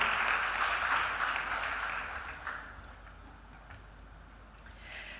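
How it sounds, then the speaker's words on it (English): Applause from an audience at a ceremony celebrating Indian women in aviation, fairly faint and fading out over a few seconds into quiet. "a huge round of applause"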